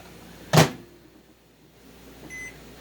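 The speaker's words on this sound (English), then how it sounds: "Okay, I've decided to take the beeswax and put it in the microwave" A microwave oven heating beeswax: a short loud clunk of the door or start, then a quiet hum and a faint closing beep near the end.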